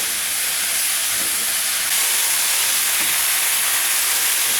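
Spring onions going into a hot pan of chilli paneer give a steady, loud broadband hiss like steam that lifts slightly partway through and continues unbroken, with no voices.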